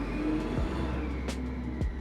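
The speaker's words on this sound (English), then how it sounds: "There are garbage men outside making a racket." Garbage collectors at work outdoors, a steady low rumble of a truck engine with a couple of short mechanical squeals and clanks rising over it, continuous and fairly loud.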